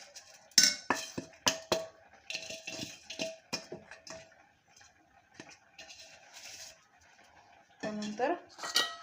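A spoon clinks and scrapes against a pot while fried boondi is stirred into sugar syrup for motichoor laddu, with sharp irregular taps at first, softer mixing, then a louder scrape near the end.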